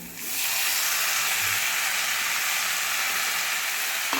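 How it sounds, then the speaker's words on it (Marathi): Finely chopped tomatoes hitting hot oil in a pan for tomato chutney, a sudden loud sizzle that jumps up and then holds as a steady, bright hiss throughout. "आता आपण हे बारीक चिरून घेतलेली टोमॅटो टाकूया"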